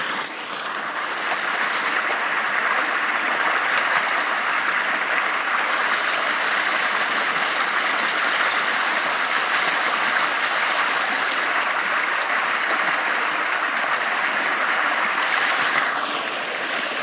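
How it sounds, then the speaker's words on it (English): Stream water flows through Long Wood near Winscombe and Cheddar, making a constant broad rushing wash that stays even and fairly close for the whole stretch before easing slightly at the end, with no talking. "More streams, more water."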